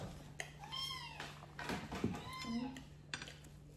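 A house cat meows several times in short, rising and falling calls close by, spaced across a few seconds against a quiet indoor background with a low steady hum.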